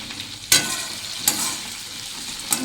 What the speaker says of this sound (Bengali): আর কপিটা মশলাতে কষা হচ্ছে